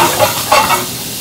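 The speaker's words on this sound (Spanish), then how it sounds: "y ponemos los camarones, los sauteamos" Shrimp sautéing in a hot pan give a steady, close sizzle with faint stirring scrapes, with no voices over it.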